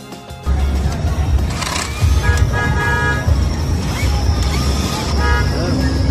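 Ryoku cordless brushless impact wrench removing a nut on a multicab, a loud steady whirring hammer close up with a few pitch shifts as the nut breaks free.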